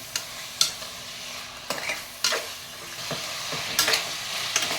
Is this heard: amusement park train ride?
no